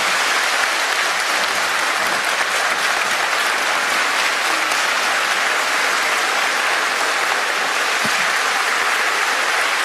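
A large audience at a church-organized public event applauds loudly and continuously, a dense wash of clapping that runs unbroken and even for about ten seconds.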